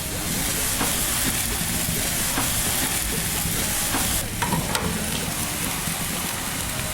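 Marinated beef for fajitas sizzling fat side down on a barbecue grill, a loud continuous close-up hiss and crackle with a few sharper pops and spits partway through.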